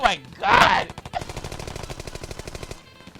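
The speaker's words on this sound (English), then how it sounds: "gunfire filled the corridor ahead" A burst of rapid automatic gunfire in a video game rattles steadily for about two seconds, preceded by a short vocal exclamation and a loud whooshing blast.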